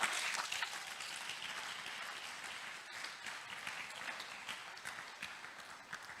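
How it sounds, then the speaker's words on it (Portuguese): Church congregation applauding in praise after a preacher's call, a steady wash of many hands clapping that fills the whole stretch at moderate volume, with no speech over it. "Aplaudam a Jesus."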